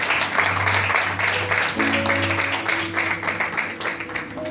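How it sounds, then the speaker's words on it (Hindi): Sunday church congregation clapping for God, a moderate crowd of hands beating in a loose, uneven rhythm, mixed with sustained low musical tones and a few voices in the background. "हमें आइए जोरदार परमेश्वर के लिए तालियां बजाएंगे।"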